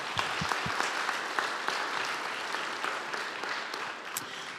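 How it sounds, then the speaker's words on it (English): Audience applause at a barbershop chorus annual show, a steady wash of clapping from a crowd that holds evenly throughout, moderately loud with a few distinct claps standing out near the front. "I think we should clap for him anyway"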